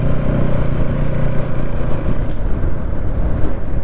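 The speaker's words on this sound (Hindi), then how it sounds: "हेलमेट लगाने से अलग ही एक साउंड मज़ा लगता है NS का।" Bajaj Pulsar NS200 motorcycle engine running with a pillion aboard, giving a steady, loud, close throbbing drone that holds its pitch throughout, with no talking.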